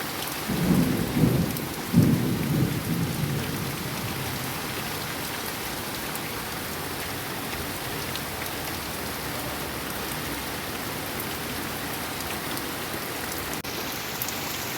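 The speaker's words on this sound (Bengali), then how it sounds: "মুষলধারায় বৃষ্টি হচ্ছে বন্ধুরা।" Heavy pouring rain in an evening thunderstorm, a steady dense roar throughout, with a couple of louder low rumbles of thunder near the start; no voices.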